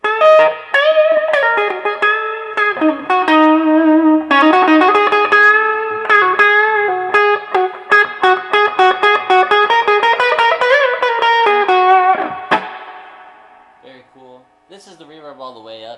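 An electric guitar plays a melodic run through a Fender Hot Rod Deluxe III amp with reverb set to 4 on the neck pickup, loud and sustained notes trailing off into quieter picked tones.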